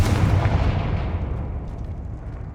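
A booming fire spell blast in the video game Hogwarts Legacy, a heavy low explosion that rumbles and slowly fades over about two seconds.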